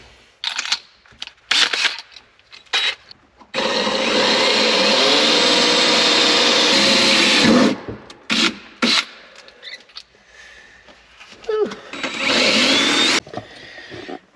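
A power drill bores holes through the cab of a '40 truck in loud sustained bursts, one long run of about four seconds and a later shorter one, separated by brief stop-start whirs and quiet gaps.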